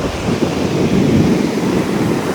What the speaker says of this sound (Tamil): எங்க பாறையை சுத்தி அப்படியே தண்ணி வந்து போயிட்டு இருக்குது.